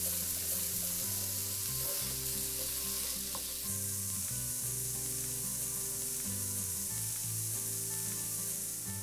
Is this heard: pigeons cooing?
no